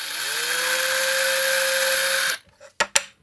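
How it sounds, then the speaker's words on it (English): A power drill whines hard and steady as it bores holes in an Amiga 2000 computer case, then stops sharp and gives way to a few brief clicks and knocks. "let's drill some holes"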